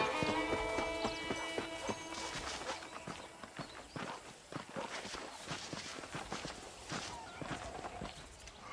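Horse hooves clopping along as a rider travels in the Western game Red Dead Redemption, a steady rhythmic patter of footfalls over music at the start, continuing throughout at moderate loudness.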